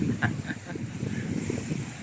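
Gusty wind rushing across the microphone with a low roar, a few faint higher sounds briefly poking through.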